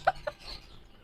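Backyard hens give two quick close clucks in succession, then fade into faint background noise.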